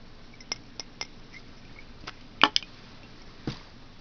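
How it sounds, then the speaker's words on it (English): A large glass bottle of rose-scented Dr. Bronner's product being handled, giving a few faint, sparse clinks and taps at irregular intervals, with one louder double clink near the middle, over quiet room background. "Pretty huge bottle, and it's glass."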